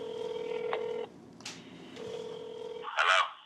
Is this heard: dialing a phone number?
yes